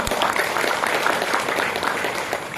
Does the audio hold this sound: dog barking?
no